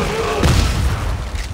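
Weapon fire in Dead Space 3 during co-op play, a low booming thud that lands mid-clip and is followed by a short rumbling tail over a steady game ambience. No distinct triple-shot rhythm stands out.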